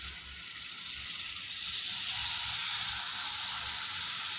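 Marinated tandoori chicken sizzling in hot oil in a pan, a steady close hiss that swells slightly as the pieces settle.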